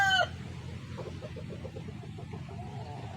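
Chickens nearby give a brief crow at the start, then a run of soft, rhythmic clucks over a low background rumble, fairly faint and without voices.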